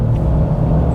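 Alfa Romeo Stelvio Quadrifoglio engine, with Ferrari-derived design, revving hard toward the red line on a racetrack, a loud, steady low-pitched roar lasting about a second with no voices.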